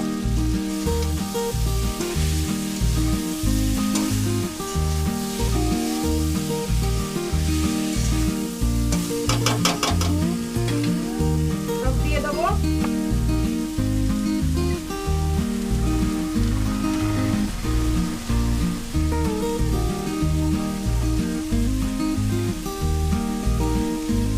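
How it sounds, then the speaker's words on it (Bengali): Cabbage stir-fries with fish head in a pan for a Bengali cabbage dish, a steady loud sizzle running throughout beneath rhythmic background music. "এবার বাঁধাকপিগুলো অল্প অল্প করে দেবো অল্প অল্প করে নাড়বো"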